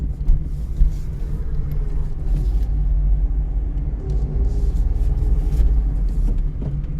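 A car on the road during a driving lesson, its engine giving a steady low rumble close by as it rolls along, with no talking heard.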